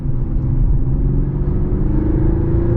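A Mercedes E450 4MATIC sedan with all-wheel drive accelerates along the Autobahn, its engine a steady, loud low rumble blended with road and tyre noise heard from inside the cabin, with no talking.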